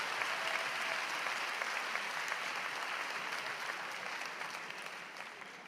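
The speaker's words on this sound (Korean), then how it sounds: "박수 한번 칠까요?" An audience at a Build Up Korea 2024 talk applauding in a sustained wash of clapping that tapers off slightly toward the end.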